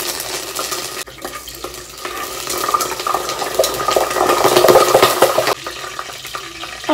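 Whole spices, bay leaves, dried red chillies and curry leaves sizzle steadily in hot oil, a continuous loud crackling hiss that swells toward the middle and drops off near the end, with no talking.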